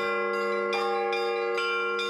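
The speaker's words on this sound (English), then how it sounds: "Russian bells aren't easy on the ear" Russian church bells ring steadily, with repeated strikes about every half second over a dense, sustained metallic hum. No voices are heard.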